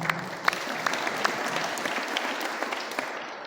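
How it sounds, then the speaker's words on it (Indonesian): A crowd applauds a group at a police headquarters gathering, steady dense clapping with a few sharper individual claps standing out, sustained throughout at moderate level. "Kita tepuk tangan dulu untuk grup"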